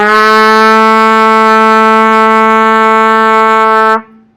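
Trumpet holding a single steady low B, a second-valve note on a ledger line below the staff, loud and sustained for about four seconds before cutting off abruptly.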